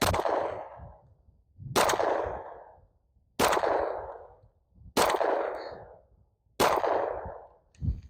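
Five loud gunshots fired at a block of ice outdoors, evenly spaced about one and a half seconds apart, each a sharp crack followed by a rolling, decaying echo.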